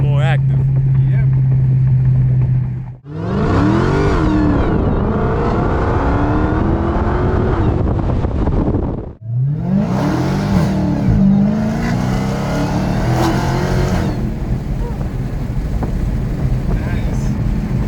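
A Dodge Challenger Hellcat on drag radials accelerates hard in two loud, rising engine pulls with a brief gap of quiet between them, heard from inside the car with wind noise.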